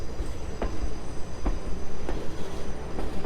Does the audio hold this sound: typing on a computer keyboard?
no